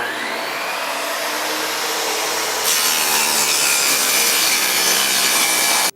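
A power saw cuts a rabbet in wood for a bookcase side, a loud, steady whining roar that rises in pitch and intensity partway through, then stops abruptly.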